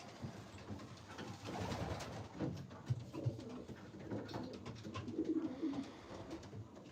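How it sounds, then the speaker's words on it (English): Pigeons coo softly in a hobby loft holding around forty birds, several overlapping low coos repeating against faint background rustle. "Probably have 40 pigeons."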